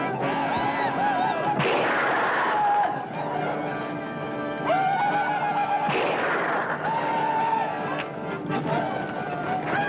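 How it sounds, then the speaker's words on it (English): Kentucky rifle firing in a frontier setting, with a couple of sharp loud reports amid a dense, noisy background of music and commotion. "And now, Lon, now is the time to fire"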